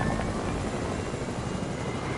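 A helicopter flies in a video game, giving a loud, steady rotor and engine drone that holds without a break, with no voices over it.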